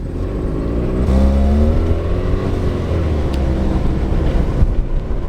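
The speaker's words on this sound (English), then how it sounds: "let me finish this test drive" A used car on a test drive: a steady, loud engine drone swells as the throttle opens, with road and wind noise throughout and no talking.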